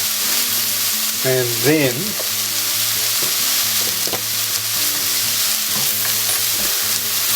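Two teaspoons of minced garlic sizzle and fry steadily in a hot pan, a close, continuous crackle with some stirring, while a voice talks briefly over it.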